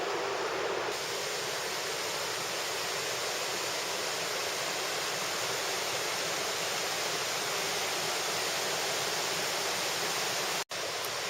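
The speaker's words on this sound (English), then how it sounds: "Behind me is Wildcat Creek," Wildcat Creek rushes in a steady, loud, broadband wash of flowing water that stays constant throughout, with no voices over it.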